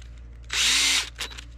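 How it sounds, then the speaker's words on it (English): A power drill pre-drills a hole through metal in one loud, steady half-second whir, followed by a brief second spurt against a quiet background hum. "Just gotta pre-drill the hole a little bit more"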